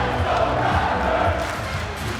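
A sold-out arena crowd roars on a Saturday night at the Air Canada Centre during Game 3 between the Toronto Raptors and Cleveland Cavaliers, a loud, dense, continuous wall of cheering and shouting with no break.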